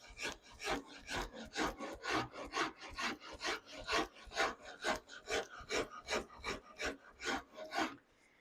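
A hand rasp files across a wooden guitar neck being carved, giving a steady series of about twenty rhythmic, close, scratchy strokes with no talking.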